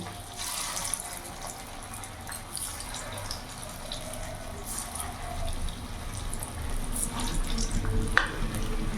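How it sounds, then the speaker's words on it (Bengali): Banana flower kofta balls frying in hot refined oil in a wok, a continuous soft bubbling sizzle with occasional light clicks, steady and moderately close. "তেল গরম হয়ে গেছে। এবার এক একটা আমি কোপ্তা বল ছেড়ে দেবো।"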